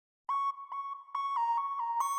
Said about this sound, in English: I added another lead, this time a sine lead with a bit crush.